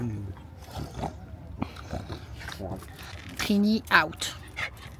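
A small dog whimpers in short, high-pitched bursts beneath lively, affectionate talk from a nearby person, with brief yips and rustling in between.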